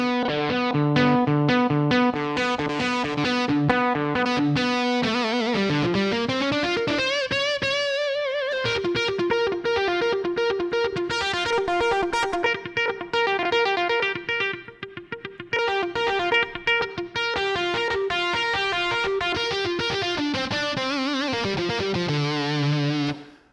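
A distorted electric guitar sample from a Yamaha arranger keyboard plays a driving riff with sustained, heavily saturated chords, loud and continuous, with a brief sliding bend near the middle.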